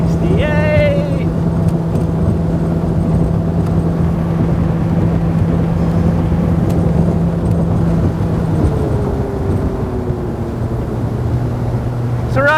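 A 2022 Nitro Z21XL boat runs at speed around 4,200 RPM with its nose down, a steady loud outboard drone with wind and water rush, the pitch shifting slightly midway.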